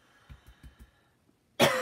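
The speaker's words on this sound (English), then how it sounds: "all of a sudden I had to cough" A single sharp cough bursts out loud and close at the end, after a few soft low thumps and near silence.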